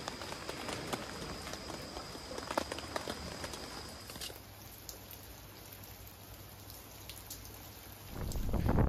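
Steady rain falls during a motorcycle camping trip with a tent, a continuous close patter with scattered louder drops, easing slightly midway before a louder wash of noise swells at the end.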